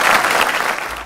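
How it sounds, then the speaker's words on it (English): An audience claps steadily for prize winners at a cultural celebration finale with a children's contest, the dense applause filling the short moment on its own. "Please give them big round of applause."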